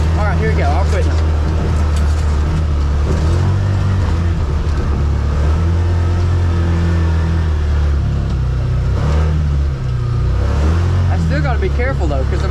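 A vehicle engine revving and pulling hard while trail riding through snow, a loud close drone that rises and falls in pitch through the whole stretch, with a voice talking over it.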